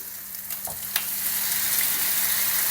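Kimchi and Spam sizzle steadily in a hot pan, with a loud, continuous hiss and a couple of brief clinks from stirring, and no voices.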